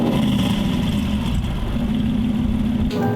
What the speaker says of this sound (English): That is my favorite exhaust sound, at least of any car I own currently.